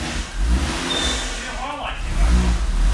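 A JZ-engined car revs hard during a burnout inside a shop, its engine roaring steadily through the whole stretch amid loud broadband tire and exhaust noise.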